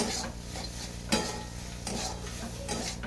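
Spiced cauliflower filling for paratha being stirred in a pan after chaat masala goes in, steady scraping and soft sizzling with a few utensil knocks against the pan, close up and without talk.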